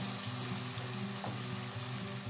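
Onion paste frying in oil in a pan while preparing dhaba-style dum aloo, a steady close sizzle with a soft hum running beneath it, no talking.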